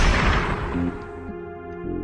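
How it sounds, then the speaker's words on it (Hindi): A single loud gunshot bursts out at the start and decays into a booming rumble with a lingering tail. "तभी मुझे गोली चलने की आवाज़ आई।"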